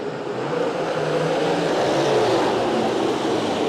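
Super sedan race cars roaring at full throttle around the dirt oval at Archerfield Speedway during a national title night, a loud continuous engine howl from several cars building as they accelerate.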